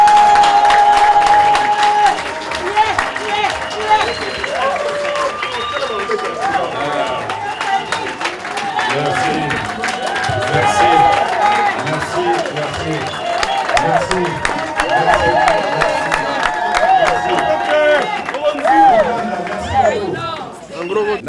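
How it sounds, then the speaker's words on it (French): A large crowd at a party rally for Vital Kamerhe applauds and cheers loudly and steadily, with scattered voices and chatter mixed into the dense, continuous clapping. "je vous demande d'applaudir très fort"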